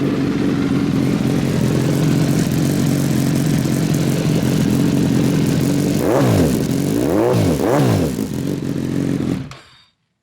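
A 2016 Suzuki GSX-S1000F motorcycle with an M4 exhaust idles loudly and steadily nearby, then revs sharply three times in quick succession before cutting off abruptly.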